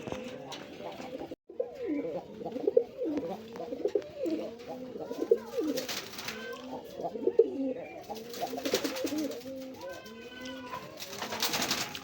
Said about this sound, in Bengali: এটা রাসগোল্লা কবুতর